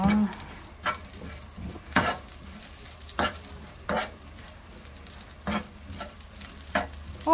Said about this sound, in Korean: 식용유를 두르고 멸치를 먼저 볶는 거예요?